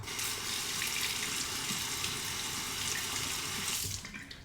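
A Merkur 23 INOX stainless steel safety razor is rinsed under a running tap, giving a loud, steady splash of water close by that stops abruptly near the end.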